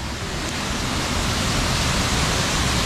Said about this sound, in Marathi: तुम्ही बघू शकता पूर्ण जे पाण्याचा धबधबा वरून पडतं